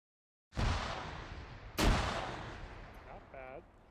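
A frag grenade detonates in the game Arma, with one loud blast and a rolling tail, followed by a second sharp explosion and its long decaying rumble, and a brief voice near the end.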